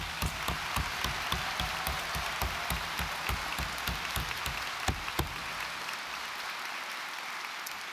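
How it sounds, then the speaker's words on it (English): Graduates at a Dublin City University autumn graduation ceremony clap for themselves in a large hall, a broad, even roar of many hands with occasional sharper claps, fading off after about six seconds. "just the graduates, just to give yourselves a massive round of applause"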